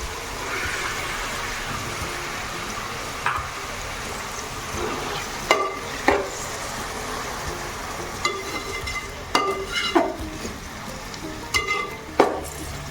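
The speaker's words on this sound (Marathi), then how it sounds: "टोमॅटो आणि कांदा व्यवस्थित परतून घ्यायचा आहे" Tomatoes and onion sautéing in a pan for pav bhaji, a steady sizzle close by, broken by scraping stirs of a spoon against the pan.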